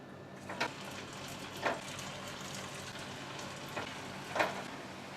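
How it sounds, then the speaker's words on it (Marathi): Mixed-vegetable manchurian balls deep-fry in hot oil over a medium flame, making a quiet, even bubbling hiss with a few soft splashes at intervals as each ball is dropped in. "चला आता आपण एक एक करून मंचुरियन यामध्ये सोडूया."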